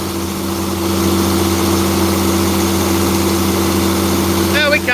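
An International 9130 tractor engine runs loud and steady with a deep, droning hum and a slight vibration at raised RPM, continuous and close, with a short burst of chirpy noise at the very end.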